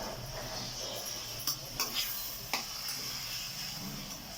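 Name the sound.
tomatoes cooking in oil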